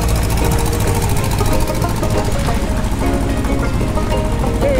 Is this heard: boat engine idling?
yes